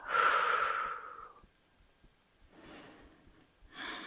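Slow, deep breaths during a beginner yoga session for the hips: a long audible inhale, a quiet pause, then softer exhalations, close and unaccompanied.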